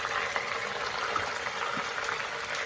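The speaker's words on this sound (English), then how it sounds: "So I'm gonna add this into the onions. I'm going to give this a stir" Three to three and a half pounds of beef shank stirred into onions in an Instant Pot, a soft continuous bubbling sizzle with faint clicks of the spoon, quiet and steady.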